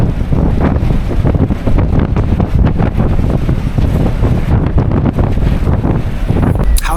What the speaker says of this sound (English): A final blast of Mediterranean wind and a nice view into the pitch black darkness.